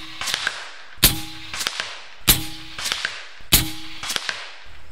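A 457 caliber big-bore air rifle fires three loud, sharp shots at roughly even spacing of just over a second, each a crisp crack followed by a brief metallic clatter and short echo, with no talk.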